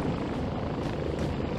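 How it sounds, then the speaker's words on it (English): Helicopters flying in the video game Warplanes 3 Air Corp give a steady, loud rotor drone with a dense low rumble, continuous and close with no talk over it. "Okay, take out these rogue helicopters."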